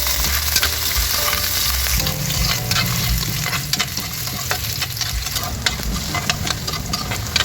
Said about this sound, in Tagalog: I-fry muna natin itong ating patata.